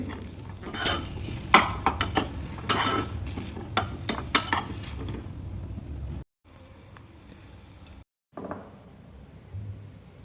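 Dry fruits for laddu fry in a pan while a spoon clatters and scrapes busily for several seconds over a light sizzle, then the stirring drops to a quieter, sparse frying hiss with brief silent gaps.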